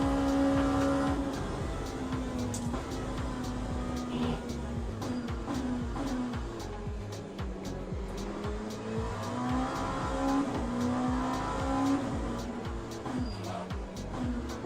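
Racing car in Le Mans Ultimate, an LMP2 prototype during an online Le Mans race, locking its wheels with tire squeal over a loud, steady engine drone that rises and falls, with a voice talking over it.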